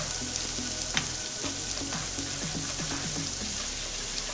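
Garlic sautés in oil in a pan, a steady bubbling sizzle with faint spatters and stirring scrapes throughout, close and unbroken.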